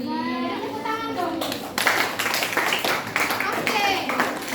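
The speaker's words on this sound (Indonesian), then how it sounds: "Tepuk tangan dong." Students clap in a classroom after a group presentation, a brief rush of clapping rising after a voice speaks, with children's voices mixed in underneath.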